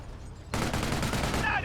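Machine gun fire from a Company of Heroes 1 battle erupts suddenly after a brief lull, a loud sustained rattling burst of rapid shots over distant combat din, with a commentator's voice faintly present.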